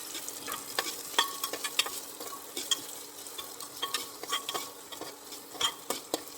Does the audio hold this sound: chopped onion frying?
yes